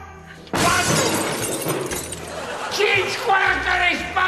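Glass wine bottle shatters suddenly with a loud crash, followed by scattered tinkling debris, while people talk over it in a sitcom scene.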